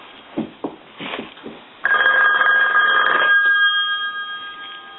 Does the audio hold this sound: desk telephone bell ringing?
yes